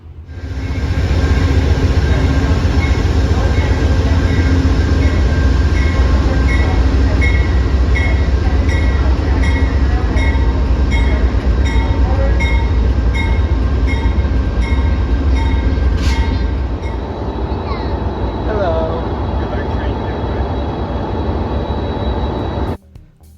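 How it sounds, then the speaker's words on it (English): A Metrolink commuter train on the San Bernardino Line, with bi-level cars, rumbles steadily and loudly nearby, with a constant low engine drone and a brief high squeal near the end. "This is the Metrolink train we're gonna get on."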